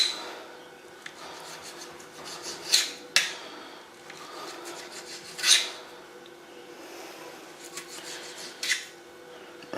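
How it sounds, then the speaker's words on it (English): A knife cuts leftover bacon rashers into strips on a board, making a soft rasping drag throughout with three or four sharper scraping strokes spaced a few seconds apart. The sounds are close and quiet, with no talking. "There's 4 nice rashers here. And this, so I can cut it up into nice strips."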